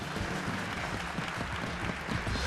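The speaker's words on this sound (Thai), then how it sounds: "ขอเสียงปรบมือดังๆต้อนรับคุณหมอพันศักดิ์สุขเกษ" Studio audience applause at a Thai television show welcoming a guest, dense continuous clapping throughout at moderate level.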